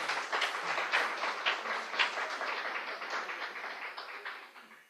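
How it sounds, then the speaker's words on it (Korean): Children and congregation in a church children's department clap together in a steady, rhythmic beat, a dense run of hand claps that fades slightly toward the end. "박수 한번 쳐주세요"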